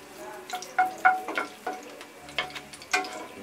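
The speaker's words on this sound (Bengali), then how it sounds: "এই জন্য আমি প্রথমে 4টি শুকনো মরিচ আগে তেলে ভেজে নিব।" Four dried red chillies fry in hot oil with a light sizzle and a run of sharp spatula taps and scrapes at irregular intervals, close and fairly quiet, no one talking.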